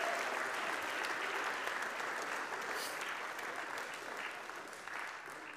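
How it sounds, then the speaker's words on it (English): Members of a congregation at a Sunday worship service in a United Methodist church clap together in a steady, continuous round of applause that sounds soft and somewhat distant, tapering slightly toward the end. "Go ahead and clap again."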